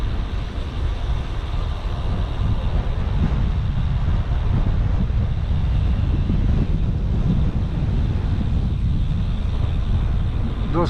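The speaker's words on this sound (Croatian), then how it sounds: "dosta puše i ladno je, nije baš toplo" Strong, cold wind roars steadily outdoors during a long ride in Germany and Austria, a dense low rumble of gusts buffeting the microphone throughout with no break.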